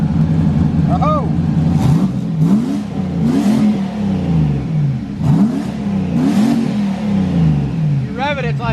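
A turbocharged LS-swapped Mustang with Holley EFI revs repeatedly, its engine note rising and falling in several quick blips, close and loud, while people talk over it.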